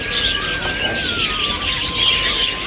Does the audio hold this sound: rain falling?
no